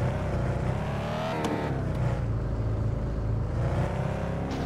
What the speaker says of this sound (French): On va tester la voiture, écoutez. On démarre